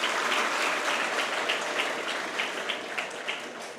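Students applaud at a college commerce faculty welcome event, a steady, dense round of clapping that fills the whole stretch and gradually eases off toward the end.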